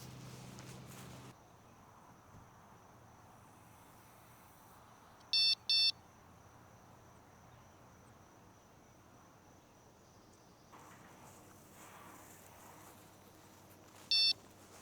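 Electronic bite alarm on a budget carp fishing rod pod gives short, sharp beeps, a quick pair and later a single one, ringing out clearly over a steady outdoor chorus of crickets.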